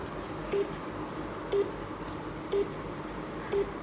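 An out-of-station phone call to a number outside Mumbai rings out as four evenly spaced short tones about a second apart, over a murmuring background.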